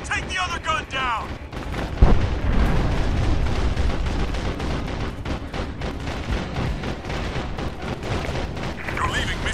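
A set demolition charge detonates in the video game Sniper Ghost Warrior 2, with a heavy boom followed by rumbling blast noise and gunfire-like crackle under game voices calling out, loud and close throughout.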